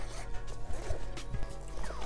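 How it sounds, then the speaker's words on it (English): Zippers on a Level Six ultralight paddle board kit bag are pulled open, giving short, scratchy zipping strokes in quick succession along with soft handling knocks, close and fairly quiet. "Zippers are very nice quality zippers."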